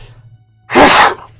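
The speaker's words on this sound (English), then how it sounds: "Excuse me, sorry, sneeze." One loud human sneeze bursts out close to the microphone after a quiet moment with a faint electrical hum, then stops abruptly.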